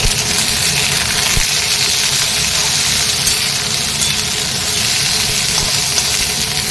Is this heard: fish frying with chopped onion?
yes